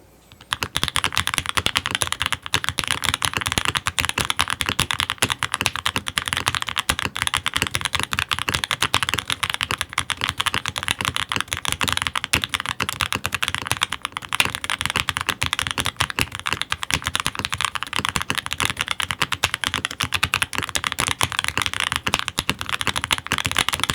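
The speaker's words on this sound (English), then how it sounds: "the sound test for the Modwood Sonnet" A Modwood Sonnet mechanical keyboard is typed on continuously for over twenty seconds, a fast dense stream of close, crisp key clacks with no talking.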